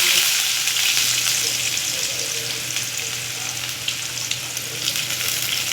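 Onion fries in hot oil with mustard seeds and curry leaves, a steady and dense close sizzle that carries on without a break, with no voices heard.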